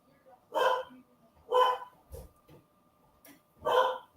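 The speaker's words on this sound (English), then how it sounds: "Now, hey, my dog's barking." A pet dog barks indoors, four loud separate barks spaced about a second apart and heard fairly near, with no voices in between.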